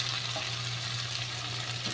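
Okra and potatoes fry in a pan, giving a steady, moderately loud sizzle with soft stirring scrapes throughout and no speech.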